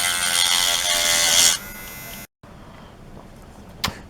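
An electric sander works on a plastic toy crash dummy during a repair, a loud steady buzz that stops after about a second and a half, followed by a softer hum, a brief silence and one short tap.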